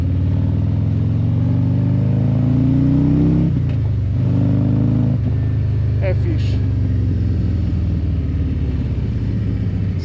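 A Harley-Davidson motorcycle engine rumbles loudly and steadily with a deep low throb, briefly dipping before settling back, while a person talks over it.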